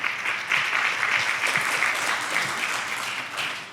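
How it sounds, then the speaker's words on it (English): An audience at a church service applauds in a steady, dense wash of clapping that holds throughout and fades slightly at the close. "You can clap for that."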